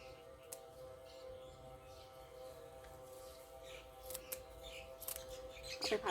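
Scissors snipping vegetable stems in a garden, a few faint, sharp clicks scattered over a quiet outdoor background with a soft steady hum.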